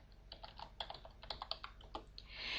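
Quiet, close keystrokes on a computer keyboard while entering a command in the text game Aardwolf MUD, an irregular burst of taps over a soft background hiss.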